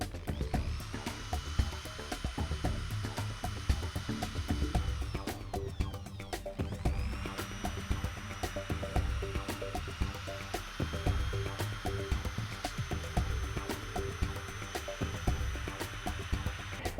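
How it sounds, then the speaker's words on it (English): An electric drill at medium speed spins a buffing wheel against a car wheel rim, giving a steady close whine with a rattling, grinding texture and a brief dip in pitch midway. "We just run the drill at a medium speed."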